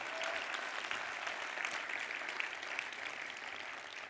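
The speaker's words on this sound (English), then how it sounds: "Again, a warm round of applause for our friends from Villafranca." Audience applause at a healthcare conference opening keynote, a steady wash of clapping held at a fairly even level throughout, sounding somewhat distant and soft.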